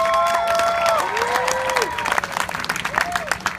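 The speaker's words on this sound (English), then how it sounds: "I want you to give her a warm round of applause" Applause and cheering from an audience at a Fields of Faith gathering in Colleyville, welcoming Victoria to the stage; continuous clapping with scattered whoops, heard with voices rising over it.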